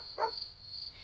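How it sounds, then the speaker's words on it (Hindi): A single short dog bark rings out once at night, fairly faint and somewhat distant, over a steady high insect-like drone and quiet background. "रात का सन्नाटा, बस कुत्तों की कभी कभी भौंक सुनाई देती।"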